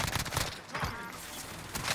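Rapid, loud shotgun fire bursts out in a close-range fight in Call of Duty Warzone, several dense cracking blasts in quick succession over a noisy battle background.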